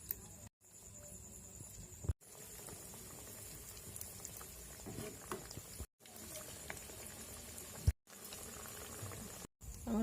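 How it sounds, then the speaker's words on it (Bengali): Potato and chicken kebab balls frying in hot oil, a continuous bubbling sizzle heard close up, broken by several brief silent gaps. "এখন এভাবে গোল আকার করে ভেজে নেব।"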